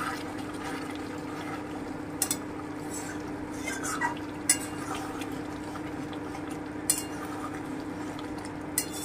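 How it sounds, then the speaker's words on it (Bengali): Mutton korma cooks down in a pan with saffron, stirred now and then. A low steady simmer hums beneath, broken by a few sharp clinks and scrapes of a spoon against the pan. No one speaks. "এইভাবে আমি আরও 10 থেকে 15 মিনিট কষিয়ে নেব"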